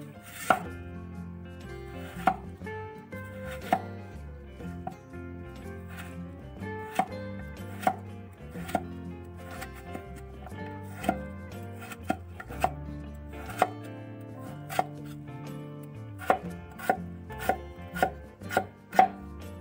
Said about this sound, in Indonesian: Selanjutnya kita akan potong-potong dadu kentangnya.